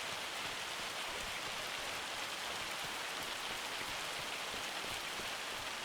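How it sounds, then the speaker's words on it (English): Steady rain falls on a farm in a homesteading farming video game, a dense, even hiss of drops with no breaks, no voices and no other sounds on top. "Now we're in June, and of course it's starting to rain."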